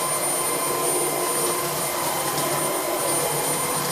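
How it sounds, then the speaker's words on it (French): A Trouver Power 11 cordless vacuum cleaner running continuously in lock mode, a steady close whooshing suction roar with a thin high whine, no breaks or talk. "je peux relâcher et l'aspirateur continue d'aspirer"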